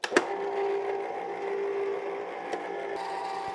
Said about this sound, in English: We just switch on the ice cream machine and churn this keto ice cream mixture for 20